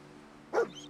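A single short, sharp bark from a dog in a post-apocalyptic video game, heard close over a faint steady background hum.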